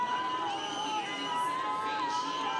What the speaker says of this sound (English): good cheering on from the crowd, mainly made up of athletes and coaches